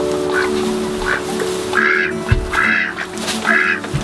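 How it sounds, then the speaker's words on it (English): Ducks near a chicken coop quack in short repeated bursts, loud and close, over a steady low background hum. "The ducks love the water."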